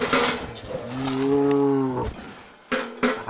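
A cow in a mountain pasture lets out one long, loud, low moo at close range, followed by a few shorter rustling sounds.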